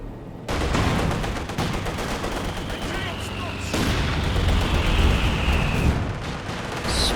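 An artillery barrage and gunfire in the strategy game Company of Heroes 2, a dense, loud, continuous rumble of explosions and crackling shots with a rising whistle, with a commentator talking throughout.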